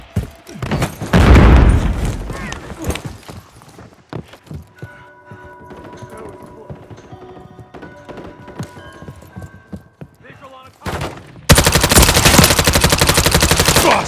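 Gunfire and a grenade blast in Call of Duty Modern Warfare 3 on PS5: a loud burst of shots, scattered rattling fire and impacts through the middle, then sustained heavy automatic fire and explosions at the end, with a brief shout of voice.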